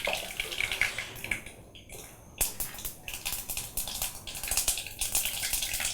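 Mustard seeds dropped into hot oil while cooking a Tamil-style coconut fish curry, giving a close, continuous crackling sizzle with scattered sharp pops throughout.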